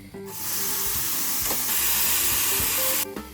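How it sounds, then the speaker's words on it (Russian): A loud, steady hiss of parboiled green beans sizzling in a hot, dry frying pan bursts in and holds for a few seconds, with faint clinks underneath. "И теперь я отправляю подваренную фасоль на сухую сковороду."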